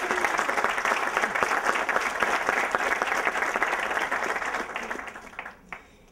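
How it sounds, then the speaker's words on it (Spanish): A live audience at a talk in Mexico breaks into sustained, dense applause that holds steady for several seconds, then thins out into a few scattered claps before dying away near the end. "Un aplauso para ellos."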